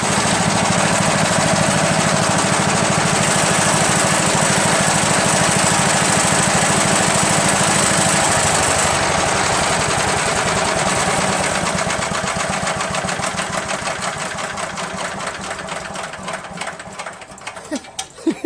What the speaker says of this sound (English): Look at it idle.